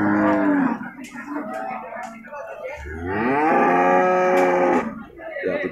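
A skinny jumbo breeding cow lowing loudly nearby, with a long drawn-out moo and then a second long moo after a short pause, ending with a brief grunt.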